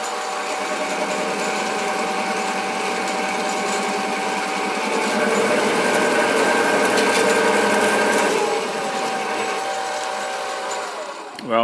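SIEG 7x14 mini lathe taking a cut with a ten-thousandths feed, a steady close motor whine with tonal hum and a rising cutting chatter in the middle before it eases off.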